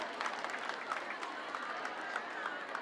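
A church congregation claps at a gathering, steady dense applause heard at a moderate distance, fairly faint, with a murmur of voices underneath.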